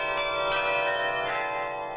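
Carillon of 56 bells at Mayo being played, several bright metallic strikes ringing out with long overlapping sustained tones, full and resonant, no voices.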